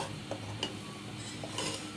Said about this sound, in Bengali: সয়াবিন তেলের সাথে যখন দুধ পাউডার দিয়ে এভাবে নেড়ে নেড়ে রান্না করে নিব